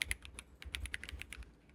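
Fast typing on an Akko ACR Pro Alice mechanical keyboard, a quick irregular run of crisp clacky keystrokes, close and fairly quiet, with no voices.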